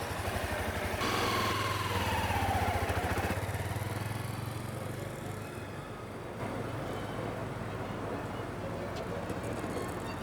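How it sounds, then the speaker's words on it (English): A beginner rider's motorcycle pulls away in second gear, its engine droning steadily and close by. Early on, a whine rises and then eases off, and the rumble continues at an even level to the end. "You're gonna pull in the clutch, hook your foot underneath and select up into second gear, and then smoothly let out the clutch and give it more gas."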